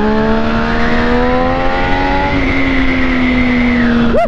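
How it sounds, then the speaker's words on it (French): Motorcycle, R version with upgraded suspension, accelerating steadily with a rising multi-harmonic engine whine held for several seconds, close and loud, with a brief shift in pitch partway through and no talk. "Allez, je réaccélère un peu."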